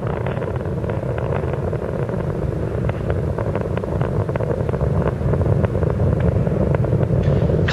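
Space Shuttle Columbia's three liquid-fuel main engines roar during launch from Kennedy Space Center on flight STS-107 as they throttle back, a steady, dense, wind-buffeted low rumble with faint crackle, continuous and loud throughout.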